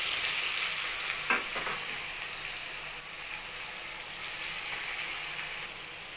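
Chopped onions dropped into hot oil with whole garam masala (shahi jeera, cloves, cinnamon, cardamom) for paneer kadai masala, giving a steady loud sizzle with a brief stirring clatter near the start, no talking.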